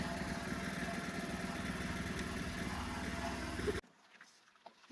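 A farm tractor engine chugs steadily and loudly while ploughing, then cuts off abruptly near the end, leaving quiet outdoor background.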